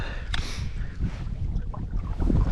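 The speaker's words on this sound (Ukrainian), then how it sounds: "Третя, третя швидкість на моторі і поїхали." A small outboard motor boat runs at third speed while trolling for pike on an autumn lake, giving a steady low engine rumble with wind and water noise around it.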